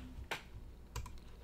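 Computer keyboard keys are pressed during an Adobe After Effects editing session, two soft separate clicks over a quiet room hum, close but faint.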